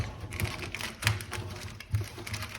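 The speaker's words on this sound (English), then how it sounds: "More keys." Keys jingle and clink in a quick, irregular run of light metallic taps during a Husky cabinet installation, fairly close and moderately quiet with no talking.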